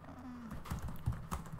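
A few quiet keystrokes on a computer keyboard, a short soft run of taps close by.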